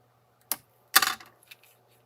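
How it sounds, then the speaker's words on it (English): Scissors snip off a piece of paper during a paper-folding craft: a sharp single click, then a brief crisp cut with a faint trailing rustle, close and quiet with no talking. "I am going to snip this off right here"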